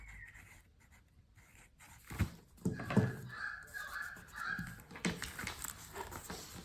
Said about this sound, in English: And that was a local bird.